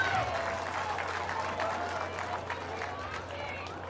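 A softball crowd claps for Northwestern batter Jordan Rudd during a game, moderate scattered clapping heard at a distance with a steady low hum and a faint voice over it.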